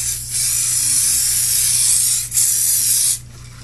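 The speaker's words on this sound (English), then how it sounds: "I'm actually gonna spray the back of my overlay with my spray adhesive" Spray adhesive hisses loudly from an aerosol can onto the back of a paper overlay in two long continuous bursts separated by a short pause, with no one speaking.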